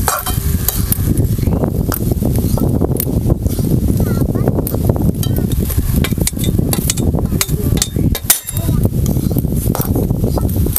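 A pot of pavta bean curry with red chilli chutney is stirred and sautéed over an outdoor wood-fired stove, giving steady loud sizzling with scraping stirs and clatters throughout, while voices can be heard around it.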